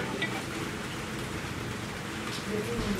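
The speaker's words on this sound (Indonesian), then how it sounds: "Hujan pula." Steady rain falls in a continuous, even hiss, fairly close, with a faint voice murmuring at one point beneath it.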